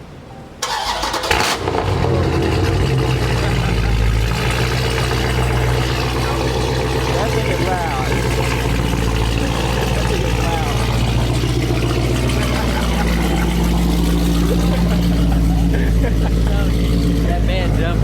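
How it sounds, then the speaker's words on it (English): A Dodge Scat Pack with the 392 engine and no exhaust fitted bursts to life, then settles into a loud, continuous, deep rumble that holds close and steady throughout. "It's gonna be my first couple of reactions to what that 392 sounds like with no exhaust on it."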